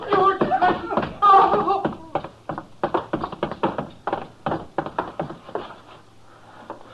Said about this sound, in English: He's beating her.